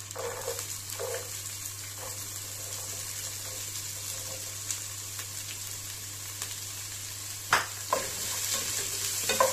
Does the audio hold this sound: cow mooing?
no